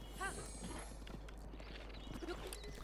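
Horse hooves clip-clopping in The Legend of Zelda: Breath of the Wild, a quiet run of rhythmic hoofbeats with a brief whinny-like call near the start and light game ambience.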